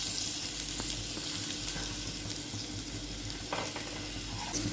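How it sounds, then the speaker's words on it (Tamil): Sliced onions frying in hot oil for a dry fish gravy give a steady, close sizzle with fine crackling pops, running continuously with no voices over it. "நம்ம வந்து இந்த வெங்காயத்தை போட்டுருவோம்."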